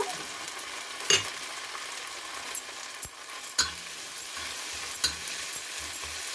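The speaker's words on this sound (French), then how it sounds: "une fois que mes oignons ont saisi, je vais mettre mon piment vert." Onions and green chili saute in a pan for Asian-style cashew chicken, giving a soft steady sizzle with scattered clinks and scrapes of a utensil stirring nearby.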